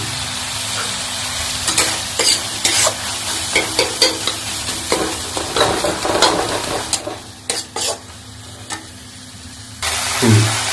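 Spices and tomato fry in a pan over a low gas flame for a Bengali-style mixed vegetable dish, with steady sizzling broken by repeated scraping stirs and clinks of a spatula, close up, no talk.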